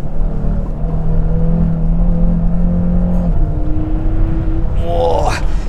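A 2.5 TFSI quattro Audi RS Q3 in sport gearbox mode pulls hard with a loud, continuous engine drone that climbs in pitch, then surges sharply near the end, heard from close by with no talking.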